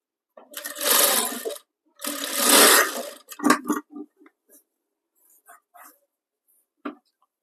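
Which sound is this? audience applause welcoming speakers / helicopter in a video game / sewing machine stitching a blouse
sewing machine stitching a blouse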